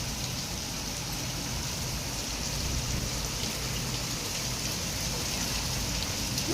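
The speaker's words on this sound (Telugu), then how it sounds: "ఈరోజు చూడండి వర్షం ఎలా పడుతుందో" Steady rain falls on a village, a constant dense hiss of drops striking surfaces with no let-up across the whole stretch.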